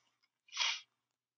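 A single short, sharp human sneeze bursts out once in an otherwise quiet room, close and moderately loud, with no talking around it.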